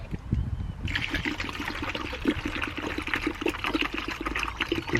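Water pours and trickles steadily into a container to mix with 6% hydrogen peroxide solution for sterilising harvested garlic, a continuous close splashing stream lasting several seconds with no talk.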